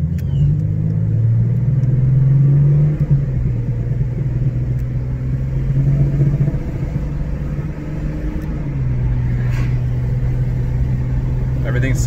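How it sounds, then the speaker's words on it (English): A 1993 Jeep Cherokee engine runs steadily with a loud, continuous low rumble that shifts slightly in pitch as it is put in gear and pulls away, close and dominant throughout. "Fired up, put it in gear, and let's go."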